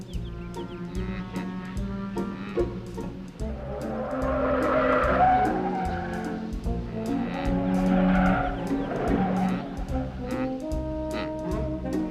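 A car with a broken muffler rumbles loudly as it drives away, its harsh engine drone swelling and then easing off. Music plays along with it.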